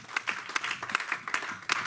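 A church congregation claps in praise of the Lord during a sermon, scattered sharp hand claps in an uneven rhythm, moderately loud and close, with no voice over them.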